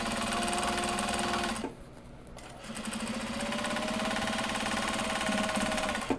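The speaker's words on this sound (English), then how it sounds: "now we're just going to sew the hardware back in" A sewing machine runs steadily while stitching hardware back into a bag, its motor hum and rapid needle rhythm loud and close, then pausing briefly before starting up again and running on.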